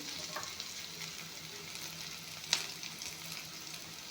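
Onions frying in a pan make a faint, even sizzle close by, broken once by a single sharp clink partway through.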